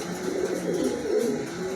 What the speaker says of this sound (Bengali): চিকন বডির কবুতর